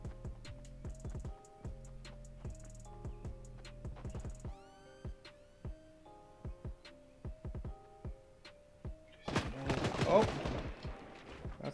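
Rapid gunfire bursts in the Fortnite video game, crisp repeated shots in clusters over a steady tonal game hum, with a denser louder burst of firing near the end.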